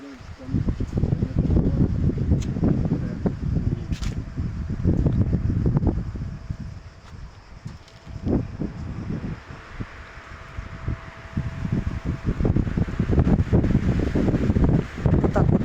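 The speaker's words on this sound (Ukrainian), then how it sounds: "вітер такий класний піднявся" Wind gusts buffet and rumble steadily in the open air while people talk over it throughout.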